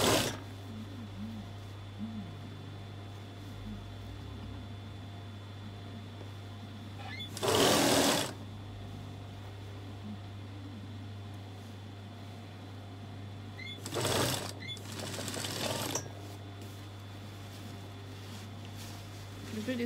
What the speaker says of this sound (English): you are going to stitch them together at the neck first.